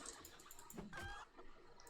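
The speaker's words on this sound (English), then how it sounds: "once I kill this chicken." Chicken clucking in a modded Minecraft-style survival game, a few short game-animal clucks over a steady low background, moderately near and alone without talk.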